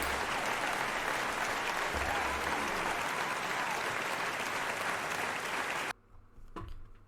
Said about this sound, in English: Do a big PES United round of applause